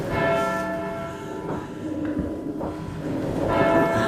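A church bell rings with loud, sustained tolls whose overlapping, humming tones fill the whole stretch. Each strike swells and decays into the next, and no voices are heard.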